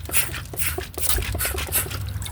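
Liquid soap squeezed onto a scrubbing brush for cleaning wheels, giving soft, close, wet squirts and drips in a few quick bursts.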